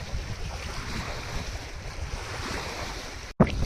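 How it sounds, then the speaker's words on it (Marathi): Sea waves wash steadily onto the shore under strong, buffeting wind that roars into the microphone throughout, with a brief dropout and then a sharp gust near the end. "आणि लाटा पण बघू शकता. आणि पाण्याचा आवाज पण इतका येतो."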